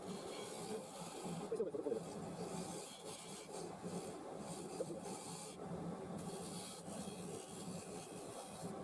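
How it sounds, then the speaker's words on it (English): A roughing gouge on a lathe scrapes and rasps against a spinning laminated wood bowl, squaring its foot, in a continuous, fairly quiet grinding texture with faint motor hum beneath. "now with the roughing tool, just to square off that foot"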